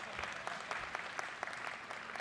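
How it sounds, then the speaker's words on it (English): An audience gives a final round of applause at the official launch of the 2024 elections, fairly faint, quick clapping from a crowd heard at a distance with scattered sharper claps. "Last round of applause,"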